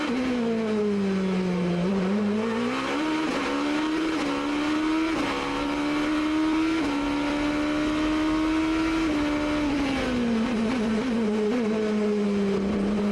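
A 2006 GP2 race car laps the Monaco street circuit in an onboard view, its engine screaming close and loud for the whole stretch, pitch rising and falling through upshifts, downshifts and corners.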